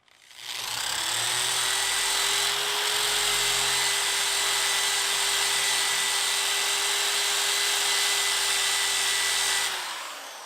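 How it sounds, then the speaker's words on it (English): A power drill spins a fine buffing wheel from a Pryme drill cleaning wheel kit, giving a loud, steady whirring whine that runs unbroken for about nine seconds with no voices. "Now we're going to hit it with the fine wheel."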